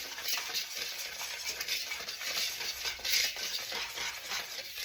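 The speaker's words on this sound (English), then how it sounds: "So we're gonna go ahead and whisk that together" A whisk stirs dry baking ingredients with cinnamon and nutmeg in a bowl, making a continuous close, soft scraping swish with a few brighter rattles and no talking.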